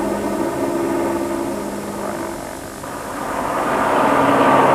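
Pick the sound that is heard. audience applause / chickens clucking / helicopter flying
helicopter flying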